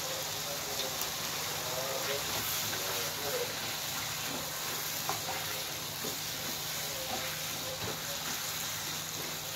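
Steady sizzling and stirring in a pan as carrots go in for sayur lontong, with a continuous frying hiss and faint scrapes throughout and no clear talk.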